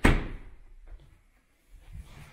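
A linen closet door in a luxury ranch-style house swings shut with a loud, close thud, followed by a faint rattle, a brief pause, and then low room noise.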